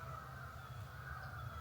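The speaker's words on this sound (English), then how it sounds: "Do you hear these birds?" Crows cawing outside, faint and distant over a steady background hum, a short stretch of calls with no talk.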